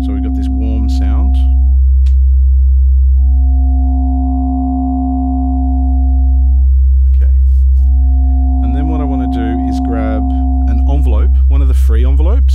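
Warm wavetable oscillator tone from a Waldorf Iridium synthesizer with effects turned down, playing sustained held notes in two separate phrases over a steady low drone, with a brief voice at the start and again near the end.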